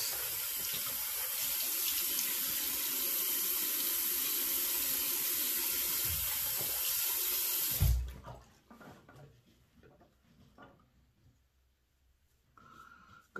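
Tap water gushing steadily into a sink while soap is rinsed off, a loud continuous rush lasting several seconds, then cut off abruptly, leaving faint drips and quiet handling.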